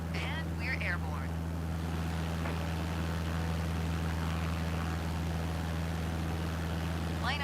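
A flight simulator's aircraft engine drones steadily through a climb after takeoff, a faint, even hum under a voice giving instructions at the start and end.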